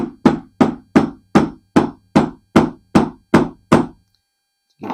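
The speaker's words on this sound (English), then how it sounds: "I'll probably just use the hammer a little bit." Ten sharp hammer taps on a punch drifting a gun sight, evenly spaced and loud, each a crisp metallic knock with a short ring, followed by a pause and one more strike.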